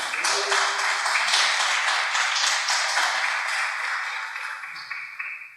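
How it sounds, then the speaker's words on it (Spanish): Church congregation applauding together, a dense, steady wash of many hands clapping at close range that holds for several seconds and tapers slightly at the end. "Dale un aplauso al Señor por eso."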